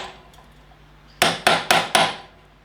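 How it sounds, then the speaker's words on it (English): A hammer strikes a drift four times in quick succession, sharp metallic knocks folding a lock washer over a nut on a motorbike in a workshop, loud and close after a quiet background hum. "folds the lock washer over onto the nut with a hammer and drift"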